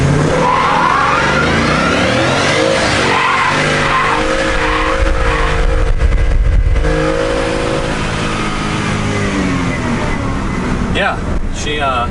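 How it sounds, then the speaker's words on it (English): A 2020 Ford F-150 Lariat pickup does a one-tire burnout with traction control off, its engine roaring loudly and tire squealing continuously up close, with a voice talking over the noise. "she did a little burnout, a little one tire fire back there actually"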